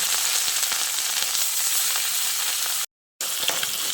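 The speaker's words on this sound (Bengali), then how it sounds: "ওই তেলে বাকি মাছগুলোকে আমি ভেজে নিচ্ছি।" Pieces of rohu fish fry in hot oil in a pan, giving a steady, loud, close sizzle with crackling spatters that runs throughout, broken only by a short gap of silence.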